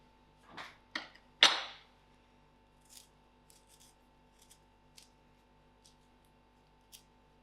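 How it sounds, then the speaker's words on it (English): A knife slices through a lemon for a spicy lentil soup made in a pressure cooker, giving three quick, close cuts followed by a few faint, scattered clicks and taps. "To this, I'm going to cut my lemon and add in the juice"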